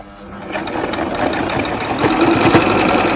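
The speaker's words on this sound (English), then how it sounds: "So I'm going to turn my zigzag stitch on, and away we go." A sewing machine running a zigzag stitch on curly lace, a steady close mechanical whir and rapid needle rhythm that builds slightly in speed, heard alone.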